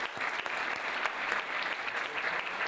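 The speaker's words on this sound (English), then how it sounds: "Let's give a round of applause for all of the Superbrands," Sustained audience applause fills a hall at a Superbrands Romania gala tribute event, a dense, even wash of many hands clapping steadily throughout with no break.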